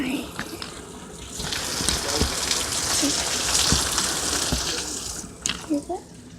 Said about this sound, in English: it is seriously raining. It's raining. See all the rain.